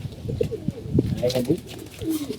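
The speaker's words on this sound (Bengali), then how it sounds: "আমাদের একটা লাস্ট কবুতর আছে এবারে" Pigeons coo in a loft housing coloured racing pigeons, several low throaty rolls and calls spread across the moment, close by, with a voice speaking over them.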